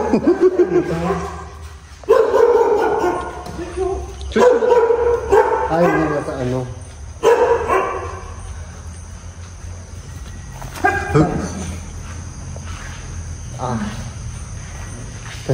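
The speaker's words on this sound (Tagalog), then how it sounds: "May aso." A dog barks in short bursts a few times, close by, while people talk over it and insects chirp faintly in the background, outside a house in Tagaytay.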